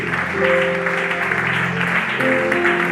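A church congregation applauds and cheers in a continuous, dense wash of clapping, with sustained instrumental tones underneath.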